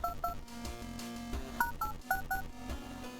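Telephone keypad tones sound in the horror video game World of Horror, a quick run of distinct dialing beeps in short clusters, fairly quiet and without speech.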